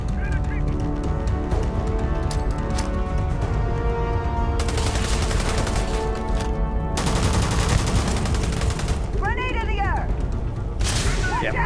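Dense battle noise from the game Starfield, with continuous gunfire bursts and blasts layered together, loud throughout, including a grenade explosion amid the firefight and some voices underneath.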